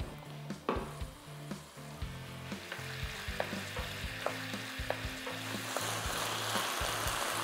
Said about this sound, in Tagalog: pabayaan lang muna nating maluto mabuti yung pork giniling hanggang sa halos mag-evaporate na totally yung liquid dito